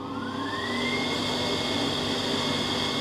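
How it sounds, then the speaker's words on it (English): A screen printing table's vacuum motor runs steadily and loudly, a continuous close whirring roar with a rising tone early on as it spins up, then holding constant with no talk over it. "With the frame down, the vacuum is engaged."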